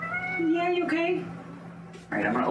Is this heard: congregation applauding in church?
no